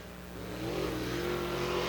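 A Steel Head/525 late model race car at Dixie Speedway accelerates during qualifying, its engine note rising and swelling steadily louder over two seconds, with no talk.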